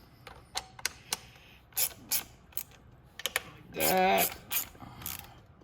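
Screws being tightened down on the valve cover of a 200cc GY6 motor: short ratcheting clicks and mechanical taps in scattered bursts, with one longer grinding run near the end, close and fairly quiet, with a brief spoken remark.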